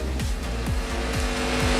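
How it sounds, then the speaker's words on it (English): Speedway race cars at Gympie Speedway rounding a hairpin and powering down the main straight, a loud continuous engine roar with repeated revving surges and tire squeal, close and steady throughout. "Braith Hogan goes through the hairpin and then up the zinc main straight away"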